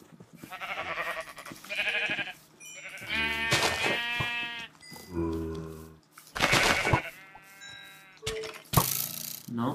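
Sheep bleating repeatedly close by, a series of wavering, nasal cries of varying pitch separated by short pauses, some calls overlapping.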